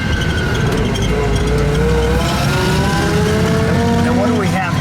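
A 1936 Auburn 852 supercharged cabriolet drives along with a steady engine drone, and its revs rise and fall as the gears change, loud and close throughout.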